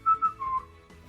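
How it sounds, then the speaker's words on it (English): A person whistles a short tune, a few clear melodic notes heard close and alone. "Soon, Granddad was whistling the same tune."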